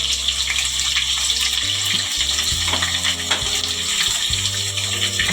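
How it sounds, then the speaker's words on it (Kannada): Two thinly sliced onions fry in hot oil for a drumstick biryani, giving a steady, dense sizzle that runs unbroken at close range with no talking. "ಈರುಳ್ಳಿ ಸ್ವಲ್ಪ ಫ್ರೈ ಆಗಲಿ ಚೆನ್ನಾಗಿ."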